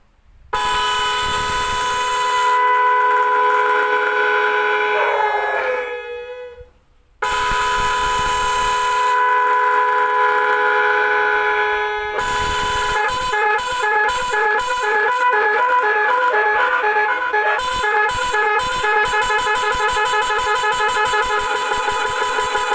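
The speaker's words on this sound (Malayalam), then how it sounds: "ഒരു 365 രൂപയ്ക്ക് ഒരു സൂപ്പർ ഹോൺ തന്നെയാണ് കേട്ടോ അത്." A loud aftermarket multi-tone electric vehicle horn on a 12-volt battery blares continuously, cuts off briefly, then returns in a rapid pulsing, warbling pattern, close and alone.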